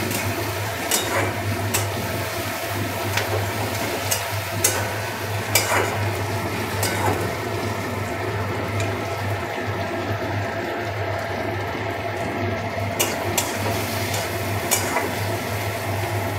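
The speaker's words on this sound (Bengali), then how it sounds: "পেঁয়াজটা একটু ভালো করে ভাজতে হবে" Onions and capsicum fry in a pan for a shrimp curry, a steady soft sizzle broken by repeated scraping stirs at a close, even pace.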